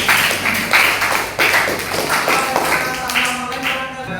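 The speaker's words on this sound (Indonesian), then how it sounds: "Oke, tepuk tangan dong" Clapping from a group of people at a school event, a steady broadband patter of many hands filling the whole stretch, loud and close with some voices mixed in.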